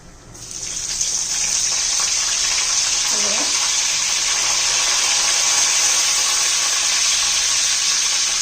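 Curry leaves hit hot oil already crackling with mustard seeds and cumin for an amti tempering, setting off a loud, steady, close hiss that starts almost at once and holds without a break. A faint voice surfaces briefly partway through.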